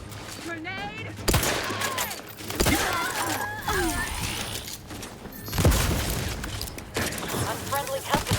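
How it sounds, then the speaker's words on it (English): Grenade blasts and bursts of gunfire from a sci-fi shooter video game ring out in loud, broadband thumps and crackles, with a game character's voice calling out between them. "Grenade!"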